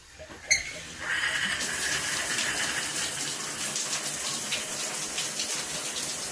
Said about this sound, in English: it's leaking, it's spraying out all over the floor